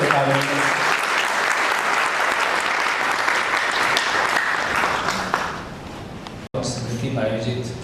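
An audience at a foundation anniversary gathering claps steadily, a loud, continuous applause filling the room for several seconds, with a voice coming in over it near the end.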